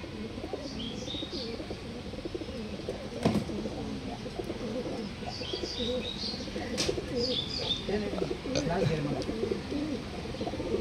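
Pigeons cooing close by in a loft, soft repeated throaty coos overlapping with occasional chirps and a brief flutter of wings, with a person talking at times over the birds.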